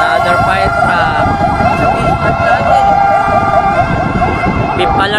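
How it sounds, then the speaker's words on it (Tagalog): A fire truck siren wails continuously and loudly at a large residential fire in Tondo, Manila, its rising and falling tone sustained throughout over a busy rumbling street background, with voices faintly underneath. "Another fire truck."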